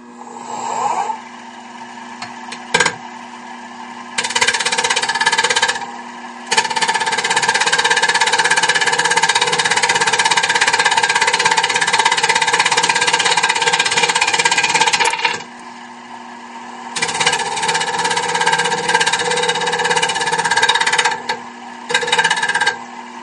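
A wood lathe rough-turns a bowl as the inside is trued up, a steady loud whir of cutting in long stretches, broken by brief quieter pauses where the motor hums alone.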